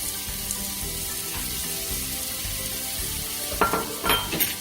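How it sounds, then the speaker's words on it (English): Steady sizzling and frying of ginger and garlic in a hot pan, with a few clinks of a utensil stirring near the end; no talking. "Here the ginger garlic is pretty sizzling and pretty good."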